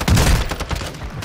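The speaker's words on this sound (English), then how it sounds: "This gun is crap." A short burst of rapid gunfire in Call of Duty: Modern Warfare II, several sharp shots loud at the start then trailing off over about a second, with no talking.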